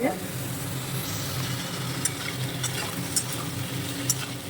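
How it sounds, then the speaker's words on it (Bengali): Potato pieces with added eggplant fry in a pan, producing a steady moderate sizzle with occasional light clicks and taps of the pan. "তো আলুটা একটুখানি ভেজে নিলাম আর হচ্ছে এদিকে তার মধ্যে বেগুনটা দিয়ে দিয়েছি"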